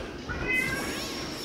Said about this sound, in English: My cat wants attention.